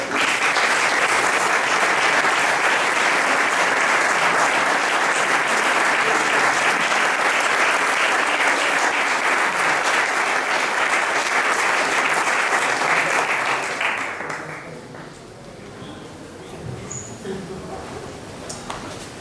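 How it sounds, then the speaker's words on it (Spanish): Sustained applause from a lecture audience rolls on steadily for about fourteen seconds, then fades into scattered claps and murmuring voices. "Un aplauso, por favor."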